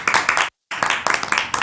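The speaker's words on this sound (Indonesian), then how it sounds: "Tepuk tangan dulu buat Kartini." An audience claps in a short burst during a podcast recording, with a brief silent gap in the middle before the clapping resumes, close and fairly loud.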